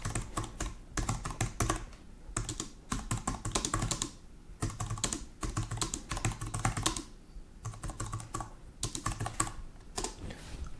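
Continuous typing on a flat wireless keyboard, quick soft key clicks in bursts with brief pauses, close by and without speech.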